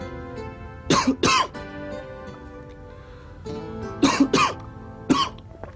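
Two pairs of quick close coughs and then one more from a person with a bad cold and sore throat, separated by short pauses over a quiet background.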